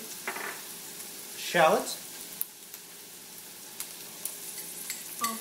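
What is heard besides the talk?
stirring and frying habanero shrimp with jalapeno in pan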